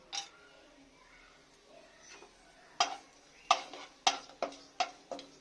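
Black cardamom and cinnamon are stirred in hot oil, a spoon scraping and knocking against the pot in a run of sharp, close clinks with a faint sizzle underneath.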